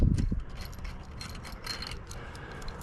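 Bolts are pulled from a metal CB radio antenna bracket: a sharp metallic clunk at the start, then light ratcheting clicks and small mechanical ticks close by.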